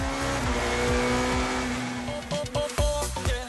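GT race cars in the Dutch Supercar Challenge at the Hockenheimring roar past at full throttle, with engines revving and shifting through gears and overlapping loud engine notes close by.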